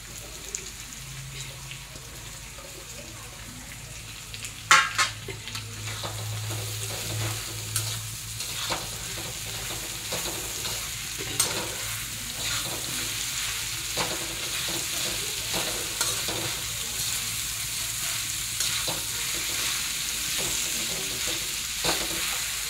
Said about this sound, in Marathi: हा बघा मॅश केलेला वाटाणा टाकूया आता आपण.